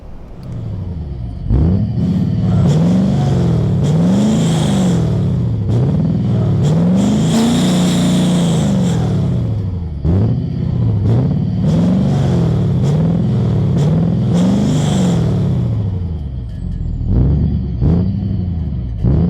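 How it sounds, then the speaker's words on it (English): A Ford F-250 6.7 Powerstroke diesel pickup's 6-inch Torqit exhaust revs repeatedly, deep throaty rumbles rising and falling in rapid bursts, loud and close, with brief idle gaps between. "good day of testing with the exhaust system"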